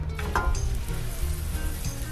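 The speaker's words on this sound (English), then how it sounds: "And listen to that sizzle." Meat sizzling loudly in a hot pan, a dense crackling hiss with a few pops and a light scrape near the start.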